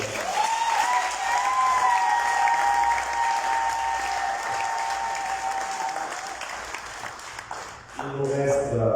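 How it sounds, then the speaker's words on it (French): Sustained audience applause for two conference talks at a parish jubilee event, dense, even clapping lasting nearly eight seconds, with a melodic tone running beneath it and music entering at the end. "Je nous invite une fois de plus encore à applaudir les 2 conférences."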